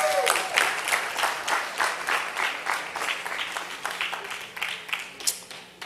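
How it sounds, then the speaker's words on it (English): Applause from the audience at an MLK Day event as a volunteer comes up on stage: moderately sized clapping with uneven surges, fairly close, with some voices mixed in. "followed by a huge round of applause"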